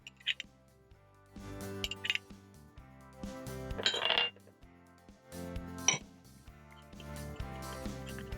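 Egg being mixed with tomatoes, shredded cabbage and capsicum in a bowl, with scattered clinks and scrapes of a utensil against the dish, some brief clattery bursts and quiet gaps between.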